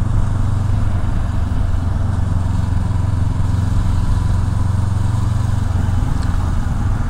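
A 2022 Honda CB500X motorcycle rides along a dual carriageway at about 30 mph, its engine a steady, smooth drone mixed with wind rush, continuous and loud throughout.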